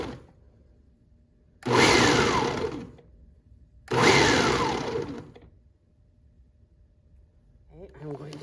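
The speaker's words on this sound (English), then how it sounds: "Okay, let's blend it. This is on the chop setting." A countertop blender on its chop setting pulses through fresh strawberries in two loud bursts of about a second each, with a short quiet gap between them and a faint voice near the end.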